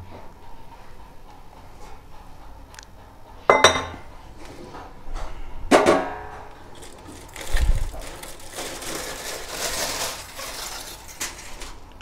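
A cooking-pot lid lifts off a pot of veg dum biryani with a few sharp metallic clinks and scrapes, followed by softer rustling and clatter close by, with no talking.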